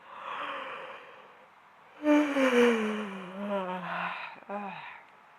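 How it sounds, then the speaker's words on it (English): A drawn-out yawn during a yoga class, the mouth stretched wide open, rises to a loud voiced middle and falls away, followed by a short breathy exhale, heard close and alone. "open the mouth really wide and do a lovely big yawn"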